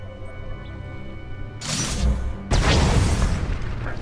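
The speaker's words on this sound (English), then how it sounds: "That's the sound of my flux cannons incinerating one of your capital ships." Flux cannons incinerating a capital ship in Star Wars: The Old Republic, two heavy broadband blasts landing in quick succession, the second one louder and sustained, over a low droning ambience.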